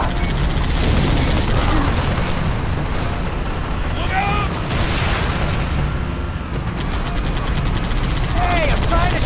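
Sustained gunfire in Halo 3 ODST, with overlapping shots and rumbling blasts making a loud, dense barrage that never lets up. Voices speak through it.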